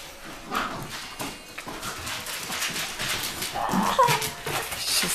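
A Wheaten terrier puppy gives soft, repeated whimpers and small whines that rise and fall over several seconds, fairly close, with light handling noise and no talk.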